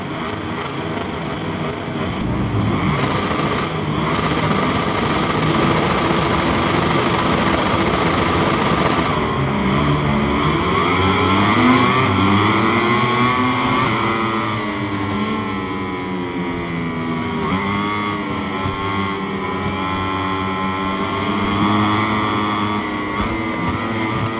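Motorcycle engines howl together at the start of a MotoGP 23 video game race at the Sokol International Racetrack, a steady, loud massed drone of high-revving bikes with rising and falling pitch sweeps as they pull away.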